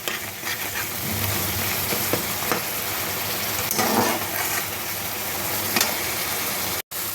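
Pointed gourd with shrimp and a little sugar being stir-fried in a pan, a steady sizzle with scraping stirs throughout and a brief drop near the end.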